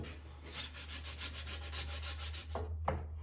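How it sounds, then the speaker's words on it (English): Sandpaper rubbed by hand over wood in a steady back-and-forth rhythm of soft rasping strokes, close and continuous, ending with a couple of sharper scrapes over a low background hum. "Sandpaper actually gets hot."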